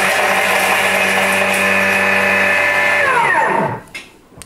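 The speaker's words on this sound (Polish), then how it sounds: "Założyć miarkę na pokrywę naczynia miksującego i czynność powtórzyć, czyli jakby zmiksować dwukrotnie." A kitchen mixer spins at speed 8 with a loud, steady high whir for about three seconds, then winds down quickly to silence.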